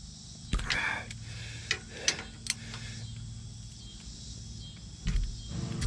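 A 3/8-drive ratchet hand-tightening bolts on a Dodge Ram steering box brace makes faint, scattered clicks and short metallic ticks over a quiet background.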